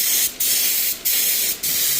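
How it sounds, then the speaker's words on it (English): A spray gun hisses in steady bursts, with three brief pauses between passes, loud and close. "This spray gun works really well."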